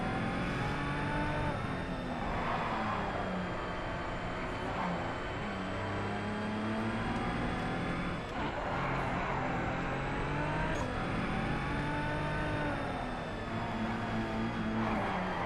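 A race car engine in the racing video game GRID revs steadily and loud through the whole stretch, its pitch climbing and dropping as the car accelerates and shifts gears, with a few brief dips along the way.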